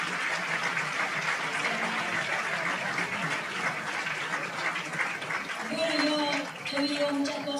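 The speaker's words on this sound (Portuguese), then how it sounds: "Um aplauso aos nossos palestrantes." An audience at a conversation event applauds the speakers, steady clapping throughout at moderate loudness, with voices rising over it near the end.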